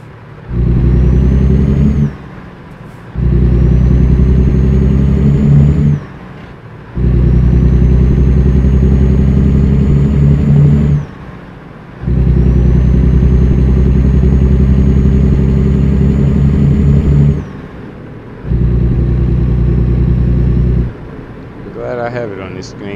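A car engine revs in five long, steady bursts separated by short drops as the clutch is worked, loud and close with a sustained droning tone.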